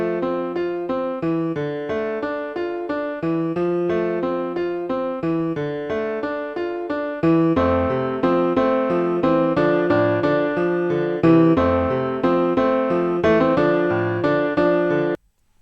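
Piano arrangement of a song played back from a sheet-music site, with a busy left-hand accompaniment and a slightly artificial piano tone, steady chords and melody filling the whole stretch, growing fuller halfway through and stopping abruptly at the end.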